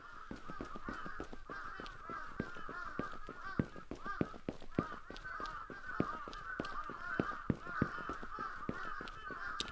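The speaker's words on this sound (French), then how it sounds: "Wow, il y a beaucoup de corbeaux là à la maison." Many crows cawing near a house on a street in Japan, a dense, continuous chorus of overlapping harsh calls with sharp clicks and knocks scattered throughout, moderately distant and steady.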